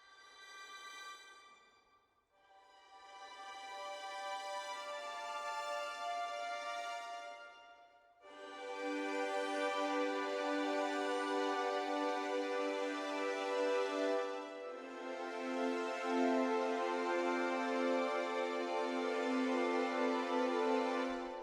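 Spitfire Albion V Sulpont Consorts strings: a sequence of sustained sul ponticello chords, glassy and edgy, each held several seconds with brief gaps and shifting harmony, fairly loud and full.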